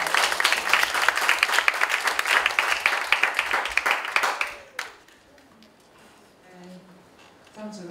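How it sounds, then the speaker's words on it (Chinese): Audience at a spiritual lecture applauding to welcome Lai Sejen, with dense, even clapping for about four seconds that fades out, followed by quiet room tone and faint rustling. "我们用掌声欢迎他"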